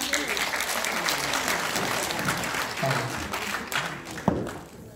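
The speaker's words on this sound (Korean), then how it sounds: "박수 부탁드립니다." An audience at a presentation event applauds a speaker. The sustained clapping has individual claps and a few thumps audible, and it thins and fades in the final second.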